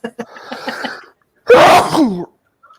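A short breathy intake leads into one loud, sharp sneeze close up, followed by quiet.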